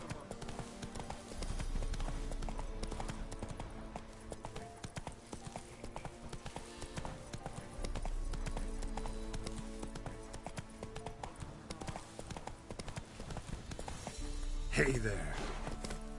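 Roach, a horse in the video game Witcher 3, trots with a steady clip-clop of hooves running throughout, close and even, while a voice speaks briefly over the ride.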